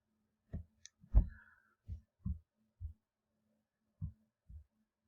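A computer mouse clicks a link, several soft, dull taps spread unevenly over a few seconds, close by and quiet against an otherwise silent background.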